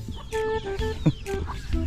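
Several chickens cluck and call nearby in a busy overlapping chorus, with a short sharp squawk in the middle.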